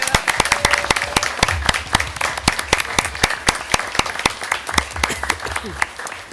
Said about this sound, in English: But if we could just give them a round of applause